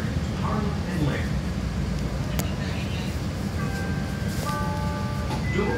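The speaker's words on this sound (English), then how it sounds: "This is a green line train to Harlem and Lake." A CTA Green Line train in Chicago rumbles steadily from inside the car, a continuous low roar with faint squeals and a brief high tone partway through.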